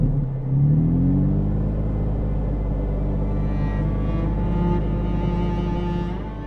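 A car drives along a forest road among pines, its engine a steady close rumble inside the cabin that swells briefly as it pulls away, then holds an even drone; no talking.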